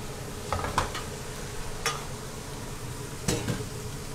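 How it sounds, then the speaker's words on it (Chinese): Bitter gourd frying in hot oil in a wok, a soft steady sizzle under a few sharp clinks and scrapes of a utensil against the pan, with no voices. "煎， 我们煎一下苦瓜。"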